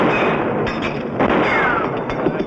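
A quick volley of gunshots in a western showdown, several sharp reports in close succession over a noisy, echoing outdoor background with no talking.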